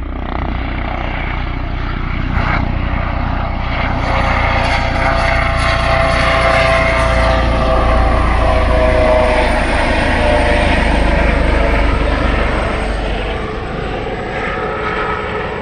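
A loud low-flying training helicopter drones steadily overhead, with a low rotor rumble and shifting engine tones that swell slightly and hold for the whole stretch.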